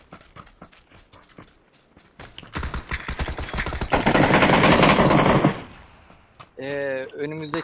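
Bursts of gunfire in PUBG during a duo match on the Erangel map, loud and sustained through the middle of the clip, with excited voices before and after.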